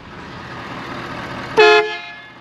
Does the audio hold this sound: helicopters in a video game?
no